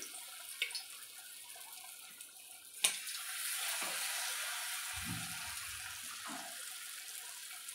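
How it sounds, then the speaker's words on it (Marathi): Boiled eggs drop into very hot oil and set off a loud, sustained frying hiss that swells and holds, preceded by a few soft clicks and a sharp knock. "अशा पद्धतीने मी सगळे अंडे तळून घेते"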